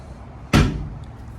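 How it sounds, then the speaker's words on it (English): A cruise ship cabin's balcony door on Icon of the Seas opens with a single close, sharp clunk that trails off into a brief rumble of air from outside. Low room noise sits around it and nobody speaks. "The door is nice and easy to open"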